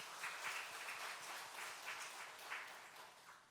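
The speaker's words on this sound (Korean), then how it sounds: "격려의 박수 드립니다." A church congregation claps after a violin performance at a Sunday service, giving a steady, soft wash of many hands that swells slightly in waves and sounds distant, with no talk over it.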